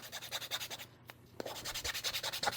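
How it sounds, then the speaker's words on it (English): A sander works over a black resin piece in repeated short, rhythmic passes, close and fairly loud, with a brief pause in the middle before the grinding strokes resume. "I'm just going to sand this black one down. Again, I use the sander."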